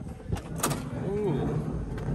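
The driver's side power sliding door on a Honda Odyssey runs with a few sharp clicks and a short rising and falling motor whine, heard up close over steady background noise.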